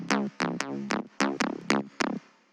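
Third trance bass synth layer for a hardwave track: about nine sharp plucked stabs, each bright attack sweeping down and decaying quickly, in an uneven rhythmic pattern, loud and alone.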